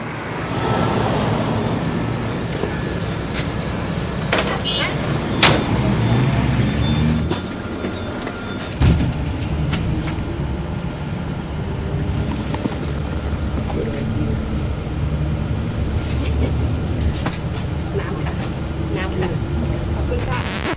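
An airport bus in Bangkok rumbles along inside the cabin, with a steady low engine and road drone, occasional thumps and clatter, and voices talking over the noise.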